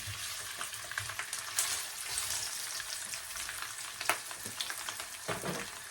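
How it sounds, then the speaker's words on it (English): Plant-based prawns cooking in hot oil for a Jamaican-style dish, a continuous bright sizzle with occasional spatula scrapes and pops, close and fairly steady. "Let them saute for a bit."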